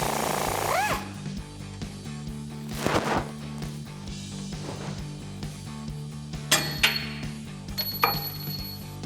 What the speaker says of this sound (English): So I'm gonna remove this nut, and then we're gonna try to pull the bolt out.